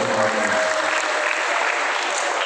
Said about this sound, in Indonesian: Tepuk tangan untuk Pak Agung.